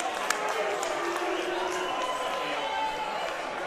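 Stadium crowd at a WAFL Australian rules football match between West Perth and Claremont, a broad sustained roar of shouting spectators filling the air, with commentary talk running over it.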